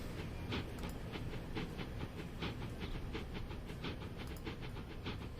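A train in the Transport Fever 2 video game runs along the tracks, making a steady rolling rumble with repeated clickety-clack wheel beats and a faint hiss. No one speaks.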